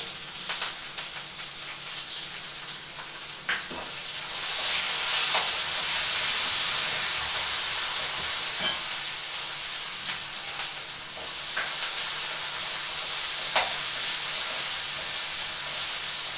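Sliced capsicum and onion fry in a hot pan for a paneer oats dosa, a steady bright sizzle and hiss close by that swells slightly midway, with scattered pops and crackles and no voices.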